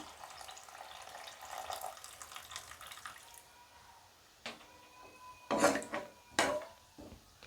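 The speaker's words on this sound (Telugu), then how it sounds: "ఫ్రై చేసుకున్న తర్వాత వాటర్ యాడ్ చేసుకుందాం" Water pours steadily into rice for a fenugreek-leaf pulao for a few seconds with a soft splashing rush, then stops, followed by a few clinks and knocks of a vessel.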